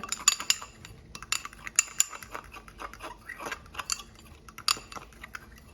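Donut glaze being mixed with vanilla essence in a bowl, irregular close clinks and scrapes of a utensil against the dish in quick bursts with brief pauses.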